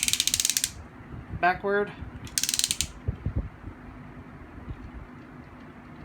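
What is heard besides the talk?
ratchet joint clicking in a Power of the Primes Abominus toy leg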